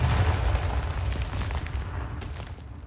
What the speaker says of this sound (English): Nade. That's actually going to hit the back of these shells.